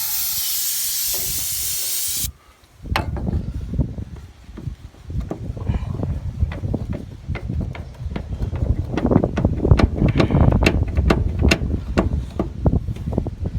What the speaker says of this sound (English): And we'll spray some more penetrating oil.